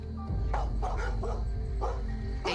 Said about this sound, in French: Avec Jenny, on a remarqué qu'ils aboyaient de plus en plus.